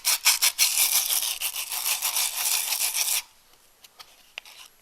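Hand sanding a handmade wooden bowl with rough trim marks: about three seconds of steady, close rasping strokes in quick rhythm, then it stops, leaving a quiet room with a few faint clicks.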